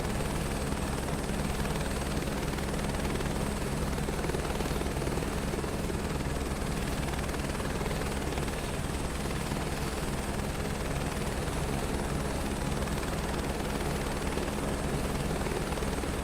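A helicopter rotor in the video game Microsoft Flight Simulator 2024 drones steadily and loudly throughout, a continuous rumbling whir with no pauses.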